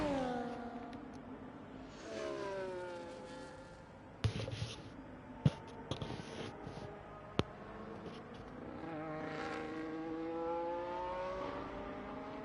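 Red Bull Formula 1 car engine in F1 24 at Silverstone, high-pitched revs climbing through gearshifts, fading and returning with a few sharp clicks in between.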